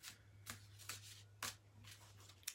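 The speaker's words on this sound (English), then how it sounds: "While I'm shuffling." Angel cards being shuffled by hand, a quiet papery riffle repeating in short bursts about every half second, with no talking.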